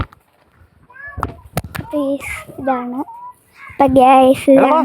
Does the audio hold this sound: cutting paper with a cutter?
no